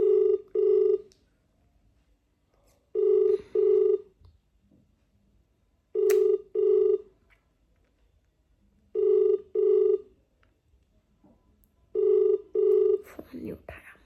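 A telephone ringback tone repeats in paired bursts, five times at an even pace, with no answer; faint voices murmur in between.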